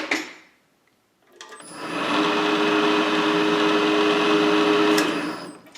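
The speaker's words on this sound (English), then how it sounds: "We'll set up to drill our oil ports." A steady mechanical whir of a drill cutting oil ports into metal, starting after a quiet moment and holding an even, high-pitched hum for several seconds.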